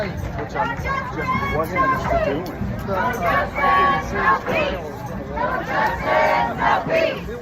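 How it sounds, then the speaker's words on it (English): Large crowd of protesters marching toward the Capitol, a dense roar of shouting and cheering voices rising and falling in waves, close and loud throughout. "a very large crowd of people"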